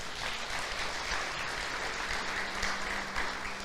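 A church congregation applauds, a steady, fairly faint wash of clapping filling a large room, without any voice standing out.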